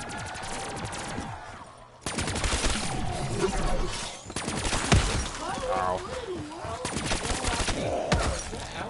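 Rapid bursts of gunfire from a gun loaded with firework effects in a zombie video game, crackling volleys filling the clip, with a short lull near the two-second mark.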